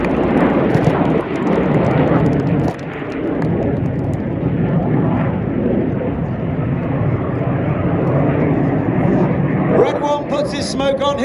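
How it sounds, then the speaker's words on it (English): RAF Red Arrows aerobatic jets roar in to land at an air display, a loud sustained broadband engine rumble filling the scene with crowd noise around it and a brighter rising whine near the end. "the Red Arrowss come in for their run break to land"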